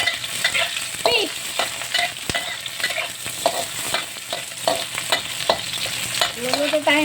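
Fish sautéing in a pan for a Filipino apritada, with steady sizzling and repeated scraping stir strokes close up, and no talk over the frying.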